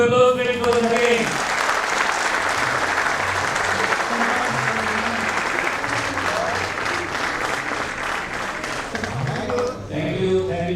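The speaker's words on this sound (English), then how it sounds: "Big round of applause, please, for the again." An audience at a Builders Association of India event in Pune breaks into sustained applause that carries on for about ten seconds, following a brief spoken introduction.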